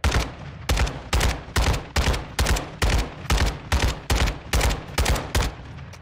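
Kastov 762 AK-47 fire in Modern Warfare 2 rings out in about eleven loud, evenly spaced bursts, each punchy and close, with no voices over them.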